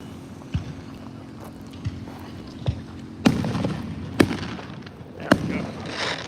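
Distant fireworks pop and boom at irregular intervals, a handful of sharp bursts with rumbling echoes over a low steady background hum outdoors.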